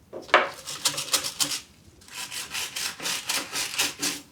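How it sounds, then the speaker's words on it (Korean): A cleaning brush scrubs limescale from the narrow gap between a faucet and the wall, quick rhythmic bristle strokes in two bursts separated by a short pause, close and moderately loud. "이 수전과 벽 사이 틈새에 솔이 들어가서 이 부분도 청소하기 편한 것 같아요"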